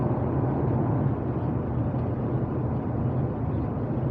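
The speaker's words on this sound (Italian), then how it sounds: "Lascio parlare i rumori interni dell'auto." Cabin noise inside a Renault Captur 1.0 TCe running on LPG at highway speed: a steady broadband road and wind hum with a low rumble, engine barely present, continuous and even, no talking.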